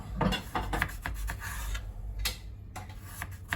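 A small knife cuts through unpeeled potatoes on a board: a series of close, quiet scraping and tapping strokes in an irregular rhythm, with no talking.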